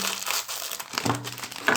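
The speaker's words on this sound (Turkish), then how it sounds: "Bir poşetimiz çıktı arkadaşlar." A plastic bag is handled up close, crinkling and rustling in bursts with a brief crackly scrunch near the end, and no one talks.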